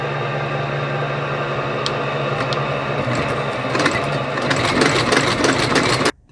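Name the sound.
Rapid E machine stitching a shoe with linen thread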